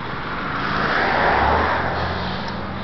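A pickup truck engine drones steadily from inside the cab, with road noise swelling briefly in the middle before settling back to a constant hum.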